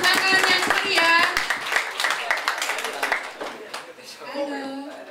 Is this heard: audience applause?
yes